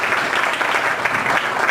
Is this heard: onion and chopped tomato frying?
no